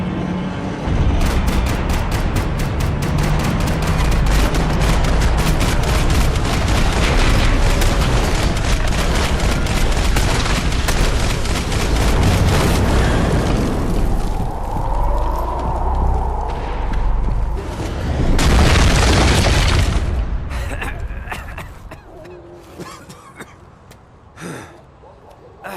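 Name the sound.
gunfire and explosions in video game Max Payne 3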